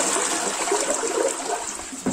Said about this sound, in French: Alors, on va tirer la chasse d'eau et on va voir.